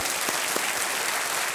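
A studio audience on the Kaun Banega Crorepati game show gives loud, sustained applause to welcome guests, including a news editor, a dense unbroken roar of clapping with no talk.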